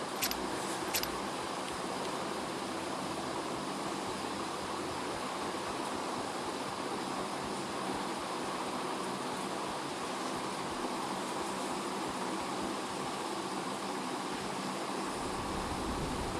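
Swimming through water in PUBG Mobile Lite produces a steady, even rush of splashing water noise throughout, moderately loud and continuous with no talk.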